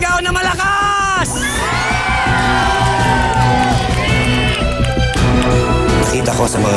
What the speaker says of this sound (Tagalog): Huling sigaw na malakas!